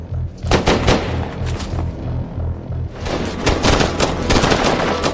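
Gunfire erupts in a film battle as French elite troops fight to rescue a journalist: loud, dense bursts of rapid shots, briefly easing mid-way before another heavy volley.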